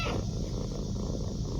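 A rescued stray kitten with a fungal skin infection purrs loudly and continuously up close, a steady rumbling drone with no pauses.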